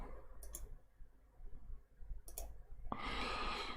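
A computer mouse clicks sharply a few times while track is laid in model railway layout planning software, with soft background noise in between and no speech.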